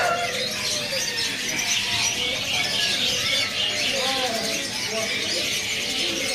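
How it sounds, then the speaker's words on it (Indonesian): Javan hanging parrots and other caged birds in an Indonesian bird shop give dense, steady high chirps and twitters, a continuous busy chorus with faint talk mixed in. "Ini ada burung serindit Jawa."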